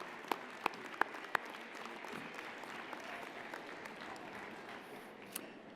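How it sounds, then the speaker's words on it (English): Graduates at a university convocation ceremony in Calgary give family and friends steady, distant applause in a large hall, with a few sharp, close claps near the start before the sound settles into an even wash that fades slightly at the end. "Let's all give the family and friends a round of applause."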